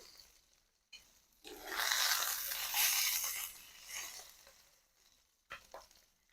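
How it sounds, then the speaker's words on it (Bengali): Katla fish pieces sizzle in hot oil in a pan, frying until red on the second side, the crackling spitting rising and falling in uneven bursts at a fairly quiet, close level. "এই পাশটাকেও আমি খুব ভালো করে ভেজে নেব, একদম লাল করে।"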